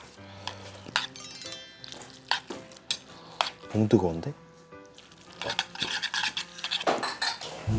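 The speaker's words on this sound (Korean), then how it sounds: "짜장면 한번 비벼보겠습니다" Korean black bean noodles (jjajangmyeon) being stirred and mixed on an old-style plate, with utensils clinking against the dish, under a person's brief talk.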